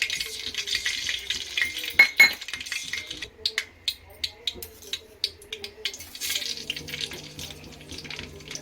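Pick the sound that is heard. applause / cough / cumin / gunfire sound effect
cumin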